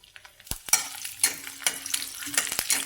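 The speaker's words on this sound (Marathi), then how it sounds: "कढई गरम झालेली आहे त्याच्यामध्ये तेल टाकून घ्यायचं लसणाचे काप पण टाकून घ्यायचे" Garlic slices sizzle in hot oil in a kadhai while a spatula stirs, giving a close, crackling fry broken by several sharp scraping clinks of metal on the pan.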